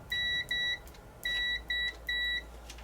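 A multimeter's continuity tester on an Amiga 2000 board gives five short, clear electronic beeps in quick succession, some doubled, near and fairly quiet with no talking.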